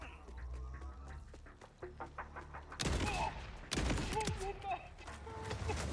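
Shotgun gunfire in the video game Borderlands, a few sharp loud blasts in quick succession after a stretch of quieter clicks and game sounds, with voices talking underneath.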